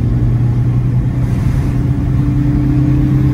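A 0 km Fiat Tempra engine revving up as the car drives, a steady close rumble with a rising hum under cabin noise.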